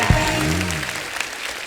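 Studio audience on a comedy show breaking into applause, a dense wash of clapping at moderate level, with a brief voice at the start.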